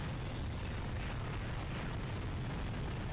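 Missile explosions in the video game Ratchet and Clank 3, battling dropships on Kavu island, a continuous low rumbling boom that stays dense and loud throughout.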